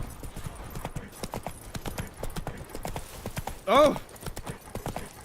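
Roach the horse in The Witcher 3 walks with steady clip-clopping hooves, a brief whinny cutting in partway through, while a person exclaims once over the footsteps.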